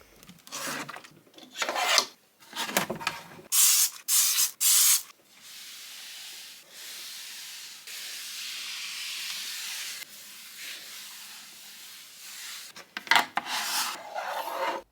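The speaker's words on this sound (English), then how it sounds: "I'm just using that and a microfiber cloth to wipe down and just tidy up each of our bedside tables" Several short hissing sprays of cleaner, then long steady rubbing strokes of a microfiber cloth across bedside tables, with more sprays near the end; no talking.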